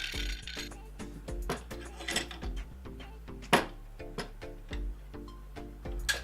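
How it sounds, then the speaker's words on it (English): A large C-clamp is tightened on a homemade wooden under-desk headphone hanger, giving a string of small mechanical clicks and ratcheting knocks, irregular and fairly close, with soft thumps between them. "here we go with the largest C-clamp I have, and that's just to clamp down at the bottom"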